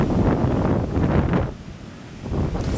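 Loud rushing surf as Hurricane Sandy waves surge up the beach, mixed with wind noise on the microphone, easing briefly before another wash swells in.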